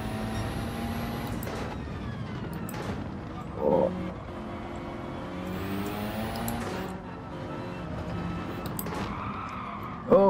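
Rally cars sliding loose on the Willow Springs circuit in Gran Turismo 7, a steady engine drone with faint tyre scrub running throughout and a couple of brief louder bursts.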